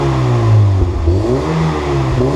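A Mazda Miata engine revs through its newly upgraded muffler, loud and close, with a deep exhaust drone that rises and falls over a couple of throttle blips, and no talking.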